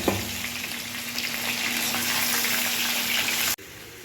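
Bay leaf and whole cumin seeds sizzle in hot oil as the tempering for a vegetarian aloo dum, a loud, steady frying hiss that runs unbroken before cutting off abruptly near the end.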